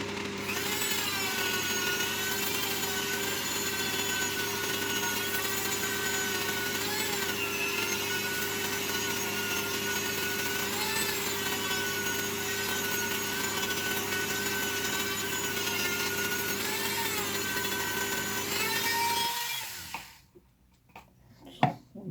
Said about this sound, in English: so I've got the grinder.